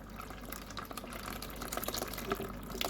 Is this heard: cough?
no